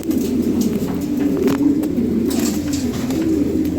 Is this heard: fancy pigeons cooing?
yes